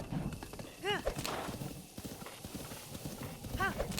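A horse in Zelda Breath of the Wild clops its hooves and lets out two short whinnies, fairly close, as a voice talks over it.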